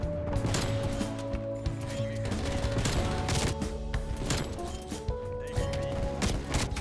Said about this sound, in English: Everybody's just jumping and shooting me with fucking alien pistols and shit.